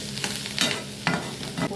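Ingredients for bottle gourd chutney, including coriander and a spoonful of sesame seeds, are stirred in a hot pan, with a steady close sizzle and several scraping spoon strokes in an uneven rhythm.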